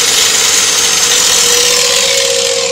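Small electric motor spinning a 7.5 kW, 220-volt water turbine alternator under load, giving a steady loud mechanical whine with a constant hum throughout, no talking.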